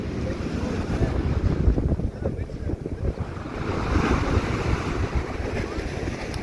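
Sea waves and wind buffeting the microphone along Blackpool seafront, a loud, continuous roar of surf with gusty rumbling swells.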